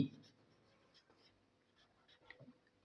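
A pen writes a math solution by hand on paper, giving faint, close scratchy strokes in short irregular bursts, with quiet background noise.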